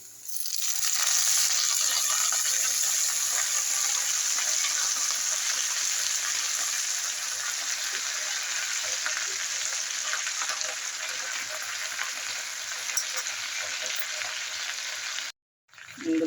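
Washed moringa leaves drop into hot tempering oil for a dal, setting off a loud, steady sizzle and crackle that holds close and even until a brief cutoff near the end.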